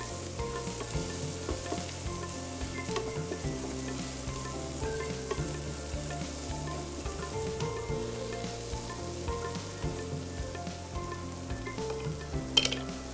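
Red chilli powder, turmeric and other spices sizzle and crackle steadily in hot oil in a pan, a continuous close frying hiss with soft stirring scrapes throughout and no talk.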